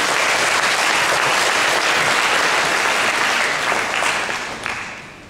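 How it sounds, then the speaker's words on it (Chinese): A large audience at a physicians' association choir concert in Tainan claps in a loud, sustained burst of applause that gradually thins and fades toward the end. "请掌声鼓励"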